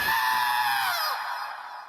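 A single high, drawn-out scream that starts loud and falls away over about two seconds, heard on its own with no talk over it.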